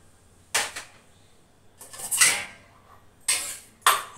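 Tea cups set out and arranged in a home kitchen, with four distinct ceramic clinks and clatters in two pairs separated by short pauses, fairly close and clear with no talking.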